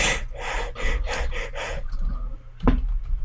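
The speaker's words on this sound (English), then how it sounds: "I had to yawn and breathe at the same time." A person yawns while breathing, giving a run of breathy, gasping pulses followed by a quieter exhale and a sharp sniff-like breath near the end, close up and alone.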